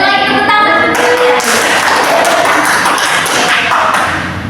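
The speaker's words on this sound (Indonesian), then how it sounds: "Sekali lagi tepuk tangan." A classroom of schoolchildren claps their hands together in a loud, dense burst of applause that keeps going at full strength, with a few voices mixed in near the start.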